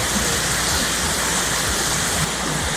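A waterfall at Dasol, Pangasinan pours in a steady, loud, dense rush of falling water that fills the scene without pause or voices.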